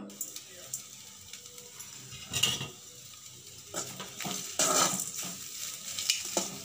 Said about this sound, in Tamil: உப்பு நல்லா கிளறி விட்டுக்கோங்க